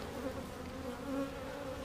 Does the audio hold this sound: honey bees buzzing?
yes